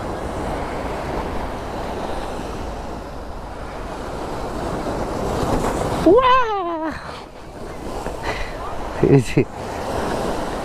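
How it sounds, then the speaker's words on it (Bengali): Sea waves at Patenga beach roll and break in a continuous, broad wash of surf with wind buffeting the microphone, while a voice speaks briefly partway through. "এক ঢেউ যায় আর এক ঢেউ আসে"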